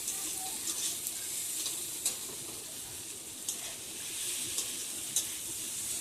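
Geri Jhal, a spicy Bengali curry of snails with potatoes, is stirred and fried in a pan in village style, giving a steady close sizzle with faint scraping stirs all through and no talk.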